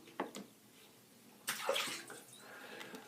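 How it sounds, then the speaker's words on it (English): Tap water runs briefly while a two band badger shaving brush is rinsed, a soft splashing burst at the start and a louder gush midway, close and fairly quiet. "Let me just rinse my brush out a second."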